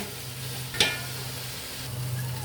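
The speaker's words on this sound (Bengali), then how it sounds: "আমার মুরগিটা ভাজা হয়ে গিয়েছে, গ্রেভিটা শুকিয়ে গেছে।" Chicken frying in a pan as gravy cooks down for biryani, a steady soft sizzle with a low hum underneath and one brief sharp clink or scrape partway through, no voices.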